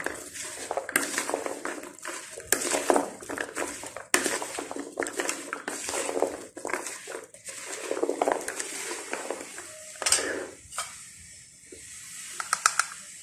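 Fruit chaat is tossed and mixed with chaat masala in a bowl, producing close, busy clattering, soft squelches and utensil clinks in an irregular rhythm that keeps going throughout.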